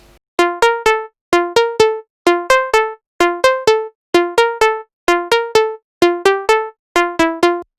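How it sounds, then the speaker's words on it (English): A Nexus synth pluck preset, Pluck Dance Sequence, plays a basic arpeggio: bright, short plucked notes in repeating groups of three, evenly spaced and loud, alone with no other instruments. "So it is called Pluck Dance Sequence."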